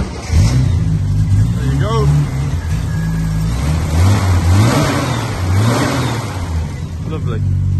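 A 1973 Triumph TR6 engine, started with a little choke, starts and revs loudly up close, rising and falling through several blips over a steady idle, while people talk nearby.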